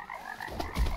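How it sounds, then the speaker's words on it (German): Frogs in the video game Bang-On Balls: Chronicles croak in a short run of guttural calls over a low game ambience, close and moderately loud. "Oh, cool. Frösche."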